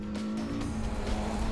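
A Porsche Carrera GT at speed on the Nordschleife track, its engine a loud, steady drone with a strong sustained tone and faint tyre noise, heard close and alone throughout.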